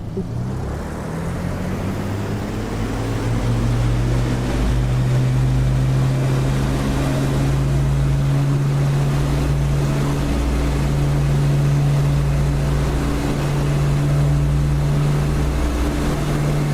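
A piston aircraft engine throttling up in the DCS flight simulator game with the brakes held, a loud steady droning roar with a strong low hum that builds in the first few seconds and then holds near full power.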